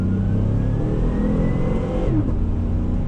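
A 2020 Chevy Tahoe with a 5.3 liter V8 and 6-speed automatic accelerates under throttle, its engine note rising as revs climb, then a brief dip where the transmission shifts smoothly before pulling on, steady and close, with no talking.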